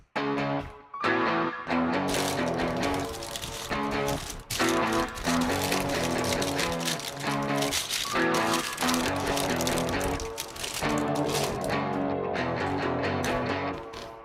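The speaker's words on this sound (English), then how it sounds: "when you listen to the whole melody stem here, it sounds like this" Melody stem of a Vylet Pony track, a Kawaii Upright K3 piano patch layered with guitar, playing dense and loud without pause throughout.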